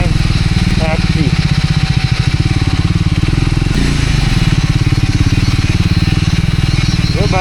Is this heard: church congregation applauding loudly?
no